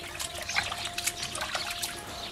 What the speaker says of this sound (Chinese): 泥鳅多洗几遍，把粘液洗干净